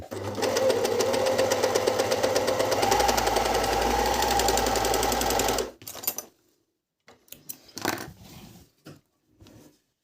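A Brother-Medion MD10685 overlock machine stitches fabric in a loud, steady whirring run for several seconds, then stops, followed by a few short bursts of handling and clicks.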